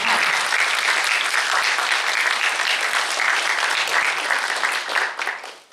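Sustained applause for teachers from an audience at an education gala, loud and steady, fading out at the end.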